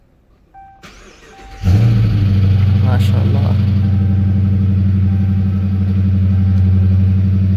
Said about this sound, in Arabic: أسمعكم الآن صوت تشغيل التشارجر RT، وطبعا تشغيل السيارة عن طريق هذا الزر.